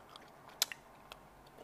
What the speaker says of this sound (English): since I keep chewing, the candy gets softer and softer